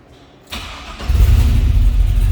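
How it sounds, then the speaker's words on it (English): Fuel-injected engine of a 1953 GMC 5-window short box street rod cranking briefly, catching and settling into a loud, deep, rumbling idle, heard up close and alone. "Just go ahead and fire this up"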